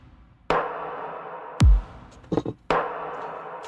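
A snare drum one-shot sample shaped with a transient shaper hits a few times, each sharp crack trailing off in a fuller, stronger tail, with a deep thump and a short rattle between the hits.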